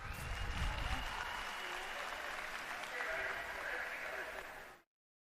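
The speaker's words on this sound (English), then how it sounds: "Give a round of applause to Sunshine," A crowd applauds at the USA BMX Cajun Nationals race, a thick, continuous wash of clapping and cheering that holds steady for several seconds before cutting off abruptly.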